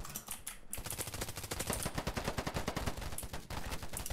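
Rapid, rhythmic automatic gunfire from a flank weapon in the video game Polygon, with evenly spaced sharp shots fired in one long close burst after a short pause.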